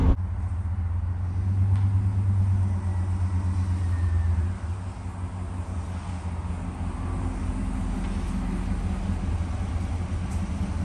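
A white 1996 Chevrolet Silverado extended cab pickup drives along, its steady low engine rumble and road noise filling the cabin, with a slight dip in level partway through and no talking.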